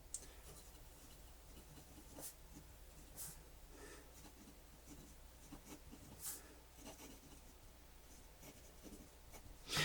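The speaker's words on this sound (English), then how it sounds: "This noise when you're writing with the pen's kind of scribing a little bit" Fountain pen nib scratching across paper while writing, a faint, continuous scritching rub with small ticks and strokes, close and quiet, with no voice over it.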